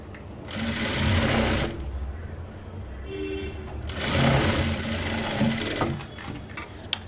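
A sewing machine hemming a blouse sleeve runs in two loud bursts of rapid whirring stitching, separated by a short pause.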